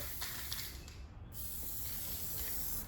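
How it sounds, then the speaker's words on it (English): Pink paint is sprayed onto parts of a 1971 VW Super Beetle, a steady, close hiss of the spray gun with one brief pause and faint mechanical clicks, no voices. "So we'll get these sprayed"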